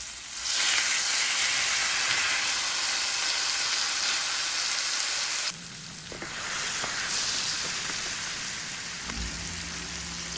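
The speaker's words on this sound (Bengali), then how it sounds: "তেল গরম হয়ে যাওয়ার পরে একে একে আমি স্টেকগুলো দিয়ে ভালো করে এক পিঠ রান্না করে নিব।" Beef steaks sizzling loudly in hot oil in a pan, a dense continuous hiss that briefly dips midway and then swells again with crackling spatters.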